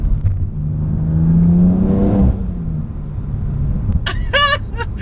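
A Manhart MH3 550 BMW M3 engine revs loudly on a downshift inside the car, a rising roar that swells and fades, followed by a brief whine near the end.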